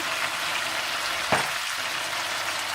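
Potatoes frying with tomatoes, dried chili powder, turmeric and salt, a steady close sizzle with one brief scrape or clack near the middle, no voices.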